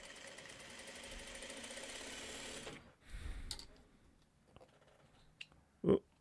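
A home sewing machine stitching baby quilt blocks, a steady whirring run for a few seconds that stops, followed by a brief burst and a few scattered clicks and bumps.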